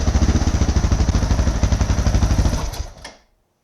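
A Suzuki DR650 motorcycle engine idling with a rapid, even chugging pulse, then sputtering and stalling into silence after about three seconds.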